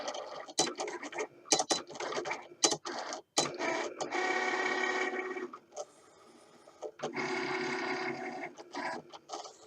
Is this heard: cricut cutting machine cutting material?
yes